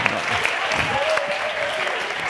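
Applause from the audience at a talk fills the room, continuous close clapping from many hands at an even level throughout, with no voices over it.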